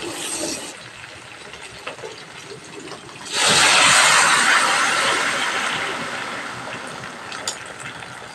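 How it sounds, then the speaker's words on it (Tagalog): A loud rushing, hissing roar of water heating to a boil in an electric heater rises suddenly and holds steady, slowly easing off, with faint clatter in the background. "kumukulo na siya"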